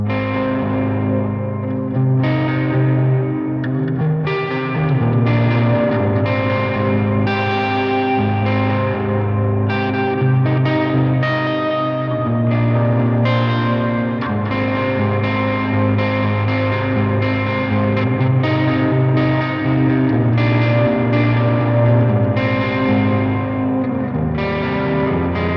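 Electric guitar played through Valeton GP-5 stock library effects, with distortion, chorus and echo layered over a steady, loud, continuous riff with dense sustained tone and repeated chord attacks throughout.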